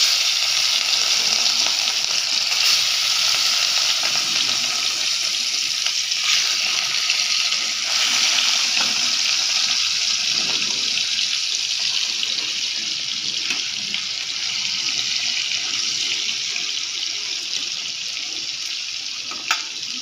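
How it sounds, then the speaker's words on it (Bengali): Fish fried one by one in oil in a wok, giving a loud, steady, hissing sizzle that runs unbroken for the whole stretch with no talk over it. "মাছগুলো ভাজা হচ্ছে"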